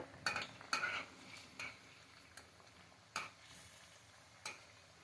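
Water chestnut flour fritters deep-frying in oil in a kadhai over high heat, a soft sizzle under a few sharp clinks and taps of a utensil against the pan.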